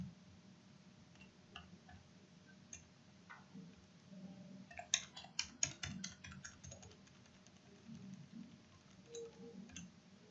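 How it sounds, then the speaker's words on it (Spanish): Typing answers on a computer keyboard, with Tab or Enter presses between entries: faint, close key clicks, sparse at first, then a quick burst of rapid tapping, then scattered single presses over a low background hum. "luego de digitar cada respuesta, se debe avanzar a la siguiente con Tab o Enter"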